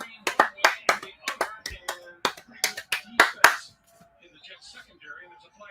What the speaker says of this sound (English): I'm over here clapping, doing the maracha.